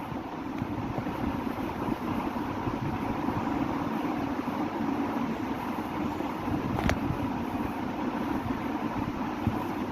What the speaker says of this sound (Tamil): பாருங்க செம்மையாக போகுது வண்டி.